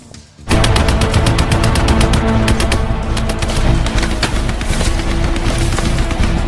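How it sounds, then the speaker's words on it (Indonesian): Sustained machine gun fire from a T-34 war film battle scene, loud and continuous rapid bursts of automatic shots starting abruptly after a brief quiet moment and rattling on without pause. "rentetan tembakan dari senapan mesin dari bawahan Letnan Gobulija pun segera menewaskan banyak tentara Jerman"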